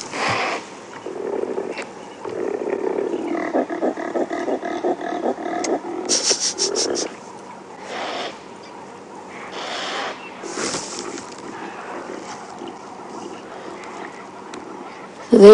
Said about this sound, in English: A rutting impala.